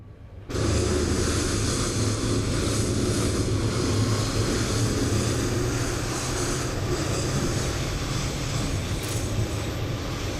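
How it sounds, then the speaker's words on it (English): Simulated engine 2 spool-up on a PMDG Boeing 737-800 in MSFS 2020, a steady loud broadband roar and whine beginning abruptly after a brief pause and holding evenly throughout, with no talk. "Parking brakes set and start engine number 2."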